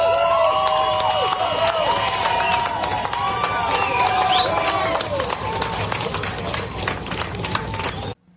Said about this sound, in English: they erupted, cheering for the hearse as it drove by them